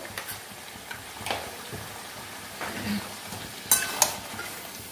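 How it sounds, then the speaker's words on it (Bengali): Chicken curry stirred with salt in a pan on the stove, a soft scraping and faint sizzle broken by a few sharp clinks of a utensil against the pan near the end. "লবণ দিয়ে এটাকে নাড়বো, নেড়ে মিশিয়ে নেব।"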